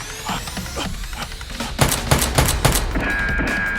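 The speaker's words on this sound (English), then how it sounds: "Dr. Lee, using two guns at once, rushes towards Tony, firing wildly" Nerf guns firing rapidly in a staged battle, a burst of several quick snapping shots over a busy background, with a faint tone near the end.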